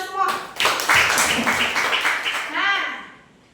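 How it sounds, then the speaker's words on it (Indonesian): Fifth-grade pupils in a classroom clap together in a short, lively burst of close applause, with a teacher's voice just before and after. "Tepuk tangan dulu untuk kita semua."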